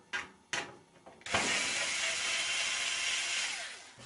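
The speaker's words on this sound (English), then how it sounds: "Unscrew this holding screw" A screwdriver unscrews the holding screw on a General Electric washing machine's faulty lid switch assembly: two sharp clicks, then a steady close mechanical whirring and grinding that runs on for a few seconds.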